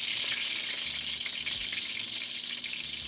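Damp bammy made with coconut milk frying in oil on a low stove, giving a loud, steady, close sizzle with crackling splatter throughout and no voices.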